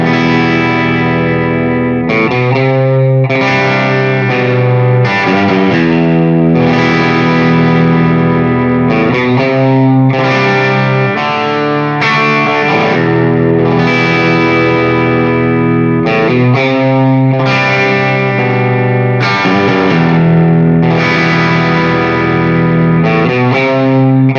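Electric guitar through a Dr. Z Maz 18 amp with a light overdrive, chords strummed and ringing with a slightly gritty, breaking-up edge, steady and fairly loud, no voices.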